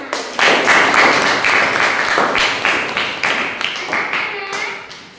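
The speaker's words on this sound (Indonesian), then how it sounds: "Tepuk tangan." A class of children claps together on a teacher's cue, a loud dense burst of hand claps that keeps going for several seconds and then thins out. Voices come through faintly under the clapping.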